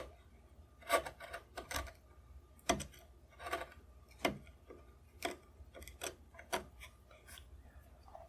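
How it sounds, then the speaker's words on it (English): A steel chisel pares wood while inletting the action into a military rifle stock, giving a series of short scraping, rasping strokes at an irregular pace, close and moderately quiet with no talking. "Followed by a chisel to bring it to the line."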